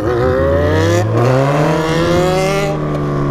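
A Honda CB1000 motorcycle with a loud, open exhaust revs hard, its deep engine note climbing in pitch and holding, close and dominant throughout.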